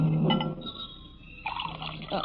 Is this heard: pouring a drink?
yes